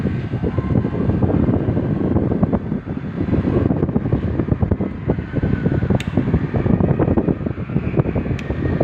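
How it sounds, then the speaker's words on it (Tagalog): A newly installed Panasonic 2 HP window-type air conditioner running its fan on high, a loud steady whooshing roar with rapid fluttering pulses and faint rattles, close and continuous without speech. "Yung aircon na in-install ko na 2 HP Panasonic."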